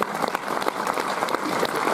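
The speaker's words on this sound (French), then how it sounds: "On va applaudir, trêve de plaisanterie" An audience at a French film premiere of a murder-party comedy claps loudly and continuously, dense close applause filling the room without pause.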